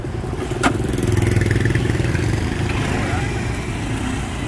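A 1981 Honda Cub motorcycle engine fires and settles into a steady, loud close idle after a brief clattery start, with no talk over it.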